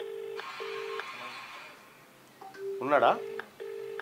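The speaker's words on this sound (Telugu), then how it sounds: "ఆయనకే ఫోన్ చేద్దాం." A telephone dialing out, with a series of short steady beeping tones and keypad tones in a quiet room; a single voice speaks briefly in the middle, overlapping the tones.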